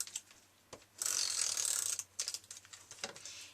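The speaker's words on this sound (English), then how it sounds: "I'm just going to run some adhesive down the one side." A tape adhesive runner clicks and rasps as it is drawn along one side of a quilted ribbon for a Christmas card, giving a short, close ratcheting scrape between a few quiet mechanical ticks.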